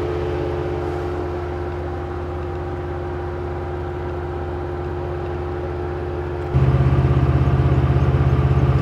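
A Ford Ranger Raptor, a small quick truck rather than a throaty V8, runs with a steady low engine drone that holds even for several seconds, then steps up louder and deeper near the end.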